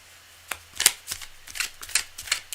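Deck of reading cards being shuffled during a live card-reading session: a handful of quick riffling bursts, crisp and close, with no talk over them.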